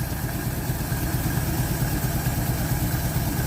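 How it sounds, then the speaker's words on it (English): A 1948 Chevy, back on the road after sitting since 1968, idles steadily with no choke on a cold tank, a loud, even, low rumble with constant mechanical vibration and no speech. "It's idling even better."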